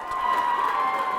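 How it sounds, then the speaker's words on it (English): A crowd at a campus battle-of-the-bands show cheers and roars in one dense, sustained wash of voices, loud and continuous through the short moment. "And the crowd went wild."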